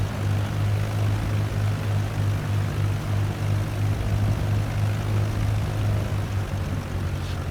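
A Cessna 152 propeller engine runs steadily while taxiing, a constant droning hum with a strong low throb heard from inside the cabin, unchanging throughout and with no talk.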